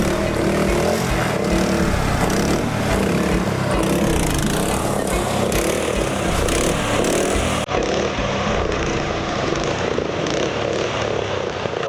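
A small boat's outboard motor strains hard as it forces through dense canarana grass on a low river, a loud continuous droning whine that never lets up for the whole stretch.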